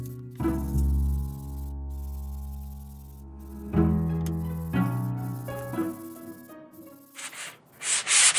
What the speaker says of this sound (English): I'm sanding to remove any splinters or imperfections in it